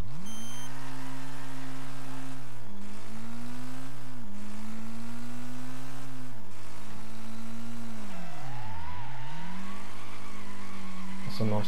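A race car's engine in the Wreckfest video game drones loud and constant at the Pinehills Raceway circuit, its pitch rising through the gears and dipping with each shift, then sagging and climbing again near the end.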